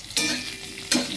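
Potato pieces hit hot oil in a pan as a Bengali vegetable curry with kundru and prawns is cooked, giving two sudden bursts of sizzling with a scraping stir between them, close and fairly loud.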